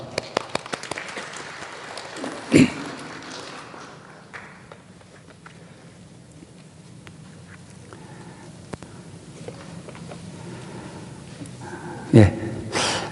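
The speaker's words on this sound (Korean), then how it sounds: "박수합시다." A church congregation at a Sunday worship service gives a brief burst of clapping that quickly tapers off into a quiet hall, broken by a couple of sharp thumps.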